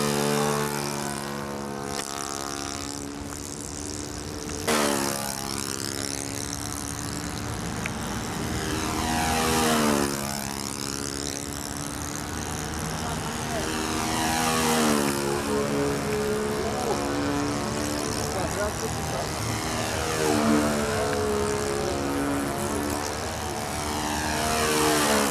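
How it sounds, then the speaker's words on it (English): A propeller airplane drones overhead in flight, its engine tone rising and falling as it passes repeatedly, fairly loud and continuous throughout. "Dave Fitzgerald, first official flight."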